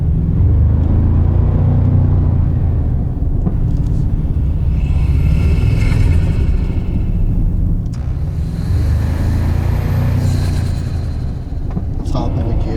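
A 2024 Toyota Tacoma on its stock air intake, its engine humming and rising in low revving surges with a deep rumble, recorded from inside the cab.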